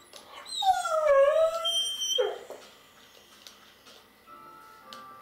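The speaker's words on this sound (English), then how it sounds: "Dog, calm down. What's with you?" A dog gives a run of high, rising whimpers and short yips, fairly close, with quieter whines trailing off afterward.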